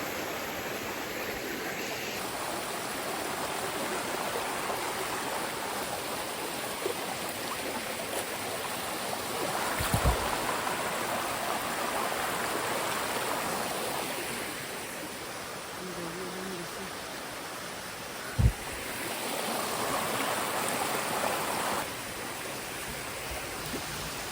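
Steady rushing water flows continuously with a broad, even hiss, interrupted by a couple of brief low thumps; no voices.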